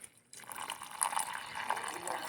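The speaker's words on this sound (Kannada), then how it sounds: "ಇದಕ್ಕೆ ಈಗ ಬಿಸಿ ನೀರನ್ನು ತಣಿಸಿ ಹಾಕ್ತಾಯಿದ್ದೀನಿ" Cooled boiled water pours steadily over cut pineapple and ripe chillies in a container for a pineapple pickle, a continuous close splashing trickle after a brief quiet start, with no talking.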